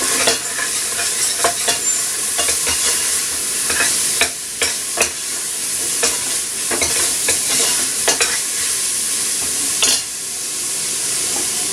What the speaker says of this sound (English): garlic pepper, half a teaspoon, stir it